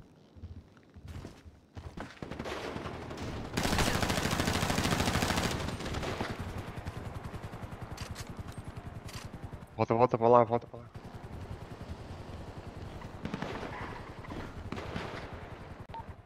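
Video game gunfire during a GTA roleplay bank robbery, repeated shot bursts and rattling automatic fire over several seconds, with a player talking over the action.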